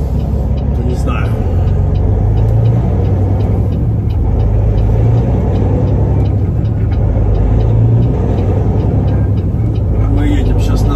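A Peterbilt 389 truck with a Caterpillar C15 engine drives along with a steady, loud low rumble throughout, heard from inside the cab with a constant drone of road and engine noise.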